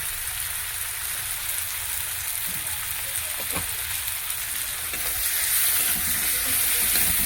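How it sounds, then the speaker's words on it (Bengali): Spice paste with cumin powder and salt frying steadily in a pan for a fish-head lentil dish, a continuous close sizzle with faint stirring scrapes that grows slightly louder toward the end. "মশলাটাকে ভালো করে ভেজে নেব।"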